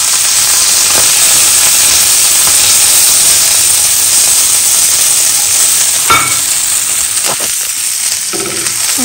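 Thecha, a coarse Maharashtrian chilli relish, sautéing with coriander leaves in a spoonful or two of oil, giving a steady close sizzle and hiss with a few scraping stirs near the end.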